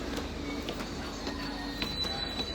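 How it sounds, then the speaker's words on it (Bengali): A train in London runs with a steady, faint rumble, with light rhythmic clicks from the wheels. "এই এই ট্রেন দিয়ে আমি আমার ইউনিভার্সিটিতে যেতাম"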